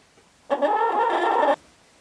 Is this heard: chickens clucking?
yes